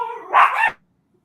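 A single dog barks once, a loud, close, slightly drawn-out bark with a whining edge, followed by silence.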